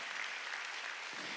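A congregation at a Wednesday church service claps together in a brief, steady burst of applause, dense and even, heard from within the room.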